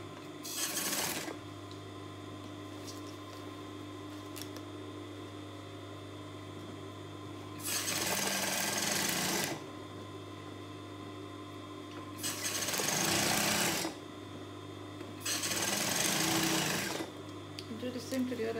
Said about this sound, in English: Now I will just take the piece of the back and top stitch it just to keep the poly cotton lining in place.